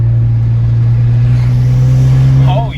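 A BMW 335i with the N54 twin-turbo engine, tuned with MHD on E40 fuel, idles loudly and takes a small blip of throttle, a steady low drone close by with a slight rise near the end.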